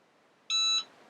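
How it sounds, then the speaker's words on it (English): A heat press gives a single electronic beep when finished, steady and high-pitched, lasting about a third of a second over quiet background hiss. "And it will beep when it's done."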